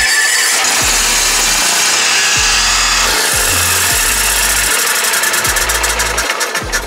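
Revived yacht engine, brought back after sinking, cranks and catches, then settles into a loud, close, rhythmic knocking idle with clattering mechanical pulses.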